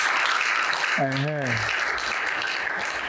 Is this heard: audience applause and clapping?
yes